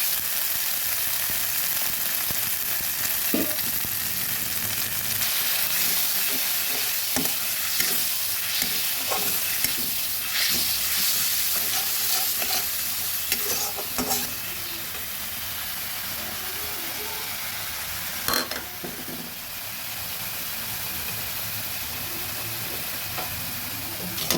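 Spices frying in oil in a pan for a Bengali bean and poppy seed dish with onion shoots, a steady broadband sizzle with occasional louder crackles and stirring scrapes, close up and continuous with no talk.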